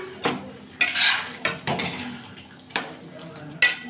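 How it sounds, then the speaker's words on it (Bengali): Boiled eggs go into a pan of simmering egg curry, with a handful of sharp metallic clinks and knocks of a spoon against the pan and faint sizzling between them, close and fairly loud. "এই যখন উঠেছে, এখন আমি এখানে ডিমটাকে দিয়ে দিচ্ছি।"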